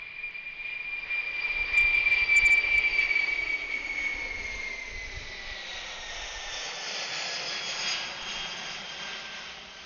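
A jet airliner takes off at Anchorage Airport, its engine roar building to a loud, broad rumble before slowly fading with distance, with a thin whine riding on top.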